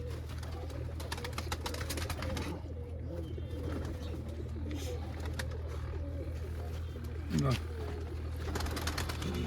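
Domestic pigeons coo in a home loft, where a silver-zero female is among the birds, with soft repeated calls over a constant low hum and someone talking throughout.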